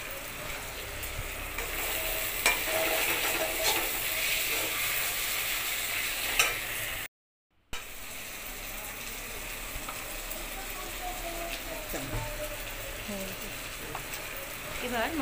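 Spices fry in a pan for chicken polao, giving a soft, even sizzle with occasional scraping stirs and utensil taps, fairly quiet, broken by a brief dropout midway.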